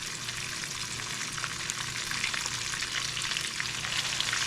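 Pork chops frying in a pan of hot fat, a dense, steady sizzle and crackle that holds level throughout, close and fairly loud with no voices.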